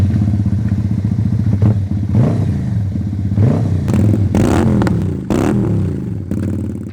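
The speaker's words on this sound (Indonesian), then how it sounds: "Sedangkan kompetitornya SMV16 ini sudah menggunakan knalpot SAC." A SYM V16 motorcycle fitted with an SAC full-system exhaust revs repeatedly at close range, its deep engine rumble rising and falling in several bursts with some clattering mechanical noise.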